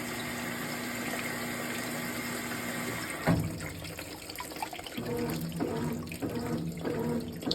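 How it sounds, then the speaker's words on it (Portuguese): A Brastemp 18 kg washing machine filling with water: steady rushing, splashing flow over a constant mechanical hum, with a brief knock and a change in the flow partway through. "Ela vai ajustar o nível de água."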